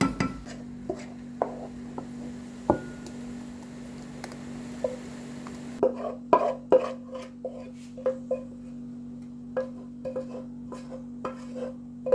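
A knife cuts strawberries on a board in a home kitchen, giving a run of soft, irregular taps and knocks close by over a steady low hum, with a few dish clinks early on.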